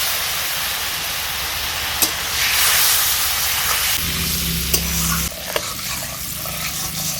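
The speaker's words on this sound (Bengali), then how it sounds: "তেলের সাথে মশলাটাকে আমি ভালো করে নেড়ে চেড়ে নিচ্ছি।" Spice paste being stirred as it fries in oil for a Bengali-style pabda fish curry, giving a steady close sizzle and hiss with occasional utensil scrapes and a brief louder bubbling stretch.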